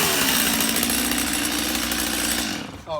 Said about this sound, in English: when we make a cut with a chainsaw and it's a heavy branch